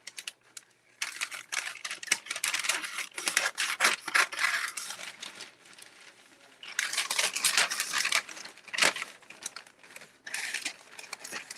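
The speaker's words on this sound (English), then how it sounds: "I'm just going to cut some pieces off here." Scissors snip pieces from decoupage paper for a glass vase, with bursts of crisp cutting and crinkling paper at close range, broken by short quiet pauses.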